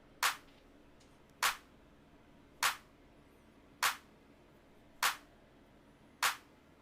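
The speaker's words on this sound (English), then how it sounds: "The clap you can just put anywhere that sounds good." A sharp clap sample in a trap beat repeats six times at a steady pace about every 1.2 seconds, each hit crisp and short over near silence.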